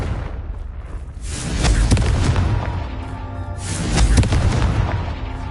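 A fire spell detonates in the video game Hogwarts Legacy, producing two heavy booming explosions a couple of seconds apart, each swelling into a loud rumbling roar.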